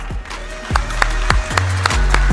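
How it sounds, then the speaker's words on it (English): A summit audience claps together at an engineering event, scattered sharp hand claps rising into steady applause in a large hall, fairly loud with a low rumble underneath. "let's give them a clap"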